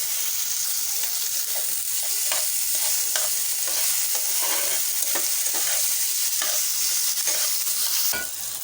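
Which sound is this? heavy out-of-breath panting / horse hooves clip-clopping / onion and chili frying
onion and chili frying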